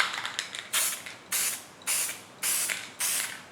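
Five sharp bursts of aerosol spray hiss in a steady rhythm, each about half a second long, with faint handling clicks before them; close and clear.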